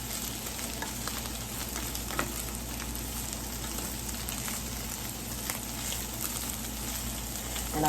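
Green beans, minced garlic, peppers and onions fry in a pan with a steady, dense sizzle that holds at an even level throughout, with faint occasional stirring scrapes underneath and no voices.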